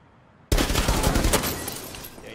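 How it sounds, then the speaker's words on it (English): Rapid burst of gunfire in the Rainbow Six Siege video game, fired through a window: a loud, dense volley that starts abruptly and rattles on for nearly two seconds without talk. "We can shoot through this window and we should be able to kill a bad guy if we can just get it lined up."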